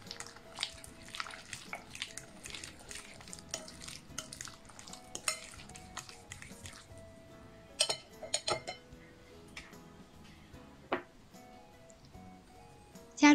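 A utensil stirring yam paste with an egg and yeast in a bowl, giving wet, soft scraping and clicking strokes in an irregular rhythm, fairly quiet and close, with a few sharper knocks against the bowl.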